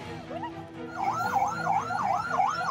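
Fire engine sirens wail as firefighters respond to a house fire, a loud, fast up-and-down electronic whoop cycling repeatedly after a brief opening tone, close and prominent.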